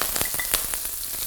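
Onions hit hot rapeseed and sesame oil for curried noodles, a short burst of close sizzling crackle with a few sharp pops, loud and alone.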